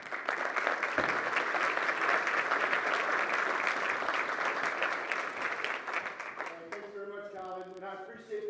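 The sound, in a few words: audience applause at a conference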